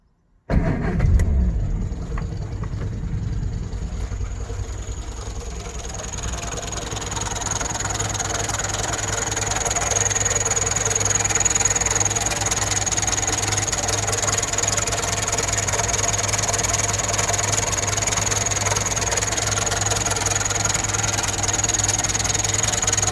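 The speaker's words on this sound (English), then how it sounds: "Let's see if I can start her up and you can see under the engine." An unrestored 1964 Morris Mini Minor in Surf Blue cranks briefly and catches, then settles into a steady, slightly rough idle of its small four-cylinder engine, heard close up and running on without talk.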